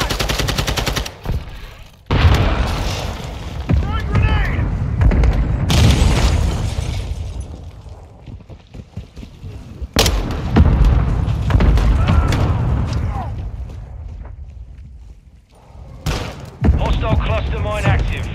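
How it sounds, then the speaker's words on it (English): Mortar strike explosions in Modern Warfare 2 gameplay: several heavy booms and rumbling blasts mixed with gunfire bursts, loud and close, with game radio voices talking in between. "Friendly mortar strike inbound."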